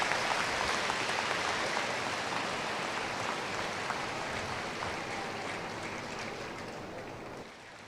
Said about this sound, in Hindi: उनका करतल ध्वनि से तालियां बजाकर स्वागत करेंगे सभी।